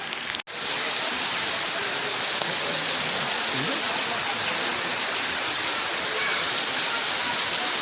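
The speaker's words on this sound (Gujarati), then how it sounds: "ચાલુ વરસાદમાં અમે અહીંયા શૂટિંગ કરી રહ્યા છીએ" Steady, dense rain falls outdoors at the Aithor Ganpati temple, a loud, even hiss of drops with no break after a brief dip at the very start.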